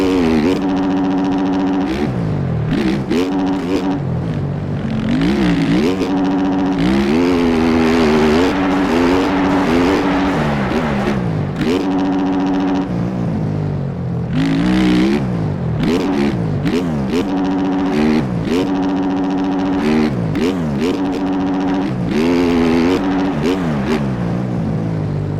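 Dirt bike engines in the MX Bikes video game race across a track with whoops and a triple jump, loud and continuous, revving up and down in rapid gear-shift sweeps and close overlapping throttle blips throughout.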